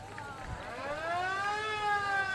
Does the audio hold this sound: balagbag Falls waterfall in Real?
no